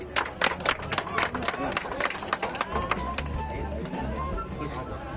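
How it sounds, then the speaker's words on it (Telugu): Audience at a free medical camp event in Shanti Nagar, Zaheerabad clapping for guests lighting the ceremonial lamp, a dense burst of sharp hand claps that thins into scattered claps over a low murmur. "అందరు గట్టి చప్పట్లు కొట్టాలి."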